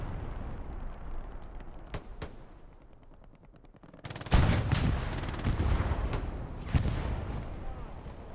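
Hell Let Loose battle at Carentan train station, with a few distant shots at first, then a loud, sudden anti-tank gun blast followed by sustained heavy fire and another big boom.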